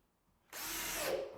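Power drill starts suddenly and runs in one steady, close whine while driving screws into a wardrobe during assembly, after a short quiet lead-in; no voices.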